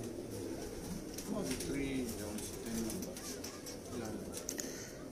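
Teddy pigeons, Punjab champion birds, coo in low repeated murmurs close by, with a steady background hum and a voice talking over them.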